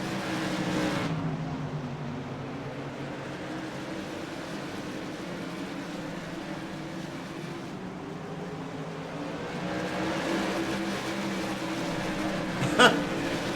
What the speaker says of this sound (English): Forced Chance Manerick and the cars behind to slow down just a hair.